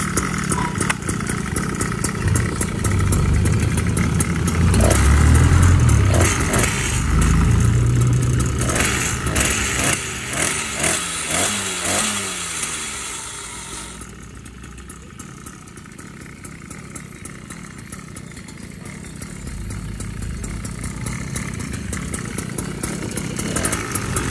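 A 71cc stand-up scooter engine fitted with a new stainless exhaust pipe buzzes loudly nearby, revving up and down in repeated throttle blips before dropping to a rough, sputtering idle and climbing again.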